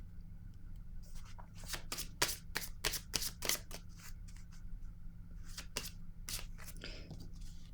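Playing cards are handled and shuffled in a run of quick, crisp riffling bursts, close and fairly quiet, followed by a few softer slides and flicks as a card is drawn.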